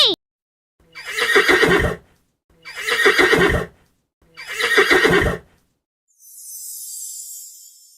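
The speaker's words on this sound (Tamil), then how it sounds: "குதிரை குதிரை" A horse whinnies three times in a row, loud and close, each neigh about a second long with short pauses between, followed by a faint hiss.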